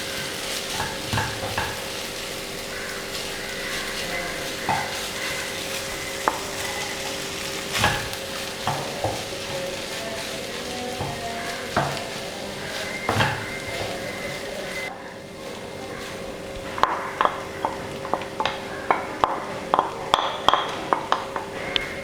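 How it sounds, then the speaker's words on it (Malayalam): Rice is stirred bit by bit into a sizzling tomato masala in a pan, with a steady fry hiss and repeated scraping spoon strokes against the pan, sharper clinks toward the end. "റൈസ് കുറേശ്ശെ കുറേശ്ശെ ചേർത്തിട്ട് നന്നായിട്ട് മിക്സ് ചെയ്യുക."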